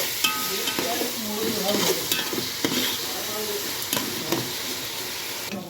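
Onions fry with salt for crab curry while a spoon stirs them. A steady hiss of sizzling runs under repeated scraping strokes against the pan, close and fairly loud.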